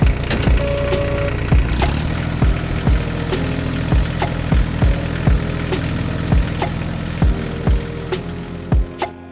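A heavy diesel tractor engine runs steadily with a deep, throbbing drone, punctuated by regular metallic knocks and clatters from the machinery.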